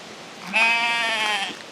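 A sheep on a small farm gives one long, loud, wavering bleat up close, held for about a second over a quiet outdoor background.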